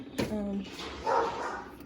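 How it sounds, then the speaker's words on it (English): Dogs bark a few times in the background of a home setting, with brief sharp barks under and between someone talking nearby. "you guys hear the dogs"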